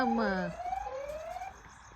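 A rising and falling siren wail sounds nearby, with harmonic sweeps that cut off and then glide upward in a steady tone before fading.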